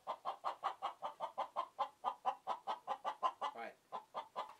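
Chickens clucking steadily inside a coop with deep litter bedding, a close, rhythmic series of about twenty pulsing clucks with no talk.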